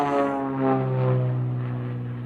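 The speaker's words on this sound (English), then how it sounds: "Coming in from your right, ladies and gentlemen, from Pierre, South Dakota, gentleman Jim Pites and the Aerobatic Bonanza" An aerobatic Beechcraft Bonanza propeller plane flies past at an airshow, giving a steady, buzzing engine drone with a rising and easing pitch.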